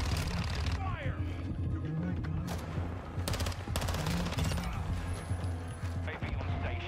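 Rapid bursts of automatic gunfire and scattered shots from Call of Duty Modern Warfare II multiplayer gameplay, sharp cracks repeating over a dense game soundscape with voices talking throughout.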